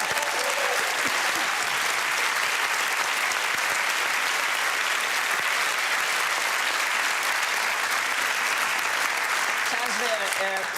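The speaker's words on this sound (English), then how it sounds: "That's the longest round of applause we've ever had for anything." A studio audience at a festive Christmas quiz show breaks into long, loud, sustained applause that fills the room steadily from start to finish, with a few cheers and voices mixed into the dense clapping.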